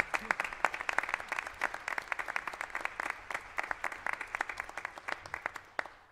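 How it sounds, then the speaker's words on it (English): Applause at a school board meeting: many hands clapping in dense, crisp bursts, fairly close and steady for the full stretch before it thins slightly near the end. "So if we could just give them a round of applause once more."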